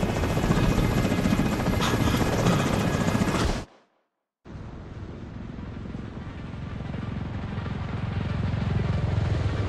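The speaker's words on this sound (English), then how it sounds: "we need to get Chernenko on that extraction chopper now." Loud, steady rotor thrum of an extraction helicopter in The Division 2, a continuous whirring drone that cuts out to near silence for a moment and then resumes at full strength.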